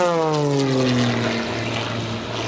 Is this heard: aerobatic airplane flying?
yes